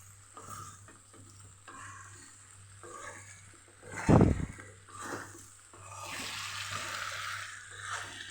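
Okra and potato curry sizzles softly in a pan while being stirred, with scraping spoon movements and one sharp clatter midway, all fairly quiet and close with no talking.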